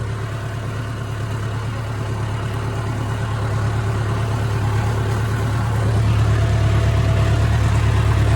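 An engine runs steadily at 1450 rpm in second medium gear, a loud, continuous low drone that grows slightly louder toward the end, with no talking.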